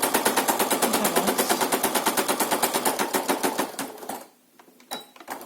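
An automatic home sewing machine stitches through several layers of fabric for a cloth face mask, a fast regular mechanical rattle running steadily, then stopping briefly before a few more short bursts as it reverses.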